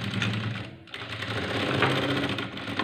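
Blouse neck seam running under an electric sewing machine, a steady dense mechanical whir with a rapid stitching rhythm that briefly dips near the start, then continues close and loud throughout.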